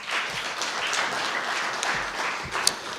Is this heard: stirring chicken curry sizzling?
no